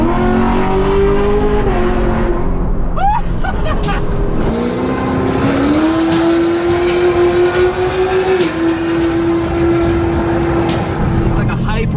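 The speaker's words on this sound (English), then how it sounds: "It's like a hybrid F1 NASCAR sounding exhaust system" A loud 600HP Camaro SS exhaust revs and pulls hard with a sustained, shifting engine drone, while people talk over it in the car.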